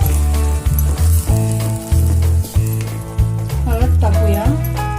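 Ingredients for Kolhapuri misal sautéing in a pan: a loud, close sizzle with occasional stirring clinks, partly under a voice and tonal background sound.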